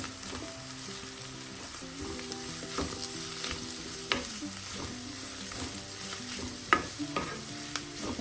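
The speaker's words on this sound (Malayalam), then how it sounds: "അടപ്പ് തുറന്ന ശേഷം നമുക്ക് എല്ലാം കൂടെ ഒന്ന് ഇളക്കി കൊടുക്കാം." Oyster mushroom thoran is stirred in a pan: a soft steady sizzle under rhythmic spatula scrapes and occasional sharp taps against the pan.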